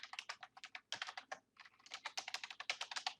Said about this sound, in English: All I have to do here is type in my name.